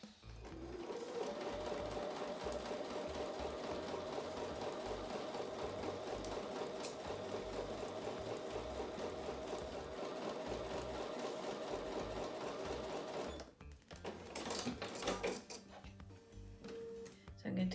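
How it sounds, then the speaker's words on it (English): A sewing machine runs steadily, stitching a quarter-inch seam on a quilt block with a fast, even mechanical whir for several seconds, then stops and gives way to handling sounds. "So I'm going to take that over to the sewing machine and sew with a 1/4 inch seam."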